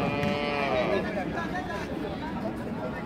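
A cow at a cattle market gives one long, loud, close moo, and it fades under a low murmur of people talking nearby.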